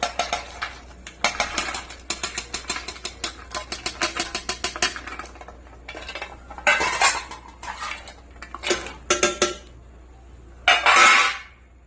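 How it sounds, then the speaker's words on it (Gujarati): A spoon stirs milk with soaked makhana, almonds, cashews and dates in a metal vessel, making rapid rhythmic clinks and scrapes in bursts, with pauses and a louder clatter near the end, and no talk. "અને બધું મિક્સ કરી દેવાનું છે દૂધમાં."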